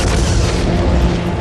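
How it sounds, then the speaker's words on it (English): The R-101 dirigible explodes after crashing into trees, a loud, dense, continuous booming rumble that fills the entire moment without letup. "The explosion swept through the R-101, killing 48 men, including Lord Thompson."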